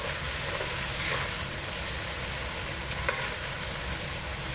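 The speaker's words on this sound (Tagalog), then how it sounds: "Saute the chicken until it's golden brown." Chicken sautéing in oil in a pan, giving a steady, even sizzle and crackle with a faint stir or two, close and continuous, with no voices.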